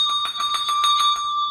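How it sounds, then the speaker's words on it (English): Handbell shaken in rapid repetition, a bright metallic ringing struck about eight times in quick even rhythm, close and clear, with the tone sustaining and fading at the end. "If you want your secondary bell to shake, I like to put my thumb on the casting of the primary bell"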